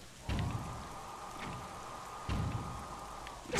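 Steady rain hisses over a low sustained hum in The Legend of Zelda: The Wind Waker HD, with two heavier bursts of rumbling impact noise and a third starting at the end.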